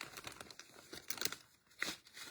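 Short crinkly rips of adhesive tape being pulled from a roll and torn while making a gift card box, a few quiet bursts close by.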